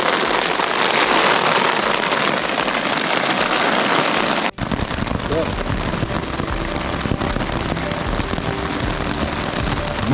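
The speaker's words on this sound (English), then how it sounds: "nice hailstorm" Hail pelting a tent during a storm at Two Medicine Lake in Glacier National Park, a loud dense rattling patter that cuts off briefly midway and then resumes slightly softer, steady and close, with no talk over it.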